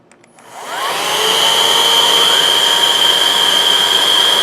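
A Hoover React upright vacuum cleaner switches on after a few clicks and spins up within a second into a loud, steady, high-pitched motor whine that holds to the end.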